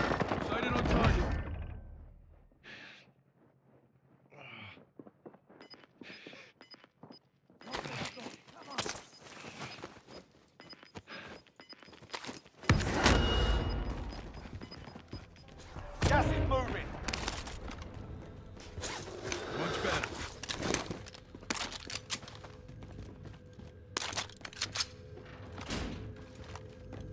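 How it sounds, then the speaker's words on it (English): Gunfire in a first-person shooter video game, with bursts of rapid automatic fire and single shots scattered between quieter stretches, some close and loud, others fainter, alongside thumps and footsteps. "I'm taking fire here"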